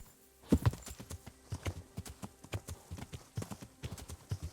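A horse's hooves clip-clop in a steady, rhythmic canter in the video game Kingdom Come: Deliverance, loud and close with regular thuds and no talk over them.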